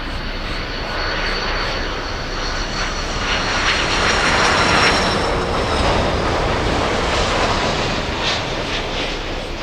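A Lufthansa airliner on flight LH462 touches down at Miami airport, a loud, steady jet engine roar filling the air throughout, swelling slightly midway with broadband rushing noise and no voices.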